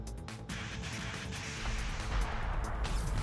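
Iron cannon fire in the video game Convoy, a dense, loud barrage of booming artillery-like blasts with crashing impacts that build in intensity toward the end, no talking over it.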